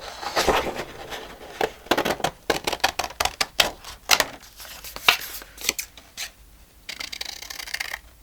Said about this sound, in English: cut that one out